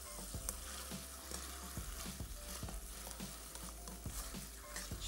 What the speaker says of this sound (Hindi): कीमे को खूब अच्छी तरीके से आपने भूनना है